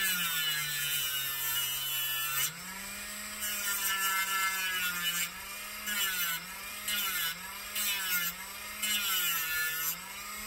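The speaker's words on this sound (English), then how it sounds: "then I'll use the Dremel to just make it a flat edge there" A Dremel rotary tool grinds plastic down to a flat edge on a radio tray, giving a steady close-up whine whose pitch dips and recovers repeatedly as the bit bites under load.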